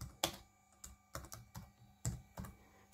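Keys being typed on the keyboard of a 1998 Dell Latitude CPt laptop, a near, uneven series of separate clacks about two or three a second, with no voices.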